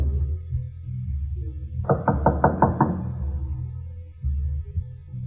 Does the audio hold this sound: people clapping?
no